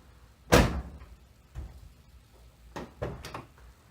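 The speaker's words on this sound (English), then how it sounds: "now I should be able to unlock it using this handle inside" A 1997 Toyota Tacoma door is unlocked from the inside handle, giving one sharp, loud clunk of the latch followed by a few softer mechanical clicks and knocks close by.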